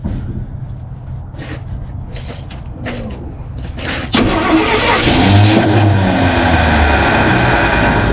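A 1968 Ford F100 junkyard truck cranks with a few scattered clicks and turns, then its engine catches abruptly and runs loud and rough, revving with a steady roaring drone close by.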